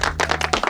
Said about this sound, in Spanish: Un aplausito para él.